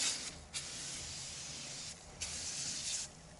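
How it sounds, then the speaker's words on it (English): An aerosol can of 5 Star foam wheel cleaner sprays onto a car wheel in three hissing bursts, close and steady, with short pauses between them. "and let's spray it on."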